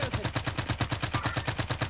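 Rapid automatic gunfire in the video game Call of Duty: Warzone, a steady burst of about a dozen evenly spaced shots fired loud and close over roughly two seconds.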